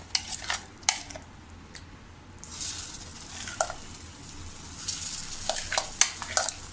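Ground masala paste and soya chunks stir-fried in oil, a low steady sizzle under repeated spatula scrapes and stirring taps, close and moderately quiet with no talking.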